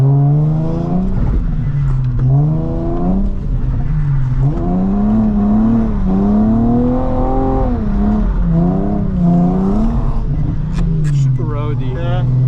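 Friend's car drifting around a track, its engine revving loud and close in rolling surges that climb and fall over and over, with a brief whine near the end.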